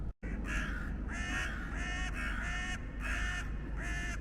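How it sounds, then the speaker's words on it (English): Crows near a historic manor house in Southwark Park, London, give a run of repeated harsh caws, about eight calls in a steady rhythm, loud and fairly close, over outdoor background noise. "You can't sleep round here with the crows."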